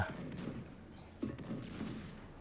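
Gunfire in the online shooter game Special Force, sniper play: a short burst of muffled shots with one sharper report midway, fairly faint, over low game background.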